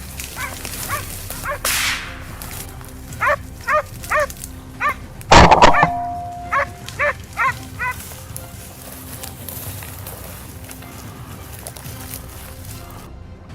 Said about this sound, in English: the hound's frantic barking echoed from the reeds right in front of John.